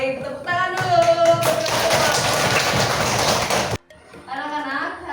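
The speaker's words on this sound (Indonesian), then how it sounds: "tepuk tangan dulu" A school class claps hands in a classroom: a burst of dense clapping runs for about two seconds between stretches of someone talking.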